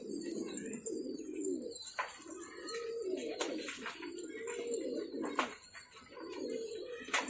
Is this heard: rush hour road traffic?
no